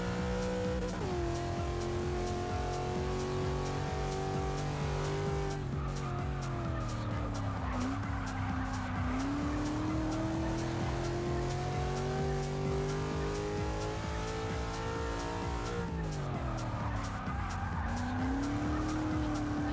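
A D-class race car in Forza Motorsport 6 laps Watkins Glen, its engine droning steadily and climbing and dropping in pitch through gear changes, while tires squeal through the corners.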